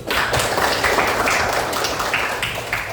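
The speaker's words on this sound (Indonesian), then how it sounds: "Tepuk tangan dulu" Students applauding in a classroom, a brief burst of mixed hand claps and taps that stays fairly even for about three seconds at moderate loudness.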